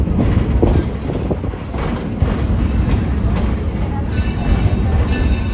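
A steam train rumbles along the rails with a steady, loud clatter and rushing wind noise, heard from on board.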